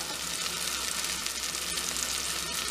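Basil and cumin seeds sizzling in hot oil in a pan, a dense, steady crackling hiss, close and unbroken for the whole moment.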